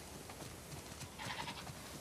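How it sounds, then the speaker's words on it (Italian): Sheep bleat faintly in the background of the game The Last of Us Part II, a few short calls rising over a steady outdoor ambience around the middle of the stretch. "Abbiamo decisamente troppe pecore."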